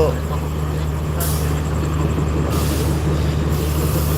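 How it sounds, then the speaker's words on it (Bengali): Rocket Mail passenger train standing at Ishwardi railway station, a steady loud rumble with repeated hissing bursts like air brakes, amid constant platform noise. "এটি একটি রকেট মেল ট্রেন এই ট্রেনটি এই ট্রেনটি আর কিছুক্ষণের মধ্যেই ঈশ্বরদীর থেকে খুলনার উদ্দেশ্যে রওনা দেবে"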